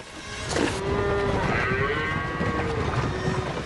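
Cattle mooing on open grassland, one long drawn-out low moo with a wavering pitch, close and clear, with a second animal's call overlapping near the end.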